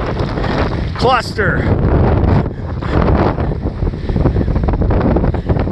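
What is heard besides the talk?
wind at a kite festival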